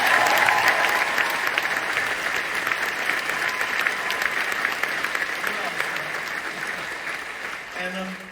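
Sustained applause from a large Live Aid 40th anniversary concert audience, dense and steady throughout, near and loud, tapering slightly at the very end with a brief voice or tone breaking through.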